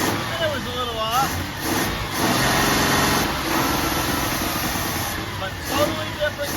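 A 1982 Dodge W150 slant six engine running rough with a breakup, its idle uneven and sputtering under a voice talking nearby, with wavering tones rising and falling through the short stretch.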